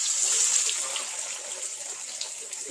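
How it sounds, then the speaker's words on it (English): Battered fish frying in hot grease gives off a steady, bright, crackling sizzle at moderate loudness, close by and continuous, with no talking. "Get in that hot grease, y'all. Get in that hot grease."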